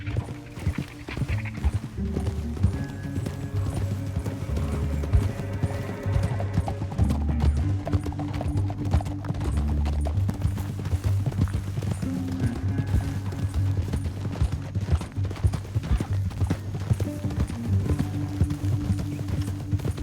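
Rhythmic clip-clop of horse hooves trotting continuously in Red Dead Redemption 2 over a low droning music bed, steady and fairly close.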